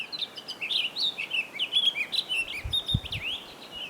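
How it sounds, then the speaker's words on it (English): Small birds chirp and twitter continuously in the High Sierra mountains, several quick high calls overlapping at moderate distance with a couple of soft low thumps near the end. "Of course, the birds are incredible."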